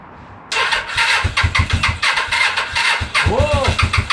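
A Suzuki GS500 motorcycle engine cranks on a weak battery, a close, loud, labored churning with rhythmic pulses that keeps grinding without catching, and a voice briefly cuts in near the end.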